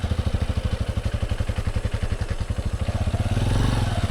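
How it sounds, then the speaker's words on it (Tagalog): Motorcycle engine idling steadily at a dark dumping site, a close, rapid low-pitched thumping pulse that holds evenly and swells slightly louder toward the end. "So dito natin lagay yung motor. Tapos patayin natin guys ha."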